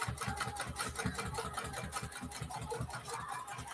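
A sewing machine runs steadily, laying a quarter-inch top stitch around a bucket hat, with a fast, even needle rhythm that continues close and moderately loud throughout, with no talking.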